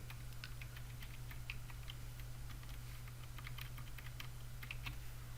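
A password is typed on a computer keyboard in quick, irregular clicking keystrokes, close and fairly quiet, over a constant low electrical hum.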